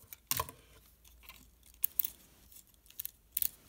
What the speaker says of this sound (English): Also the bike makes a clicking sound, which you hopefully can hear as you sort of run it past.